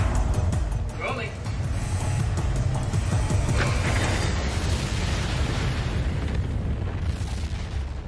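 A simulated low-angle asteroid impact explosion sounds as a continuous deep roaring rumble that fills the whole stretch, steady and loud with crackling texture on top.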